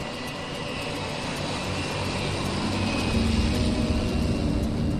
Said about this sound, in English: This is the moment most passengers are paying for, the takeoff. Half speedboat, half plane.